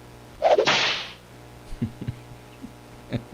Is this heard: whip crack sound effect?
yes